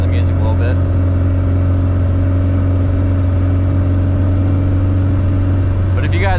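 A 1965 Volkswagen Beetle's engine drones steadily from inside the car while driving, a loud, even low hum with no clear revving, and a voice comes in briefly near the start and end.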